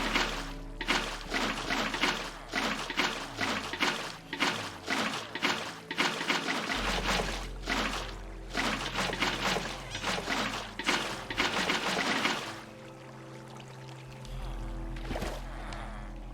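Water placed in the video game Minecraft, flowing and trickling while sharp block-placement clicks repeat in a quick rhythm, then the clicking thins out as the water continues alone.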